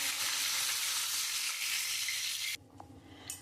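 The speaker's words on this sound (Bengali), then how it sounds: "আমার মাছটা ভাজা হয়ে গেছে" Pieces of rohu-type fish frying in hot oil in a wok, giving a steady, dense hiss of sizzling that cuts off abruptly near the end, leaving quieter faint clatter.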